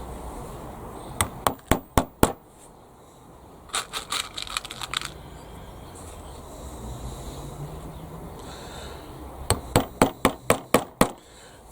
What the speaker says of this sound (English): Grab my hammer, set all these screws.